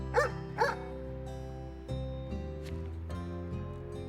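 Dog barking in the video game Lethaos: Bloomtown: two sharp barks near the start, followed by soft game music and quieter tonal effects, with no talking.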